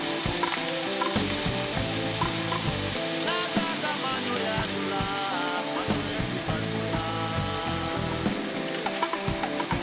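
Vinegar poured into a hot pan of bopis with fish sauce already in it, giving a loud, steady sizzle and crackle that runs unbroken from start to end.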